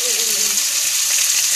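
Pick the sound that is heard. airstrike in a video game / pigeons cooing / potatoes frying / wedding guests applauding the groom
potatoes frying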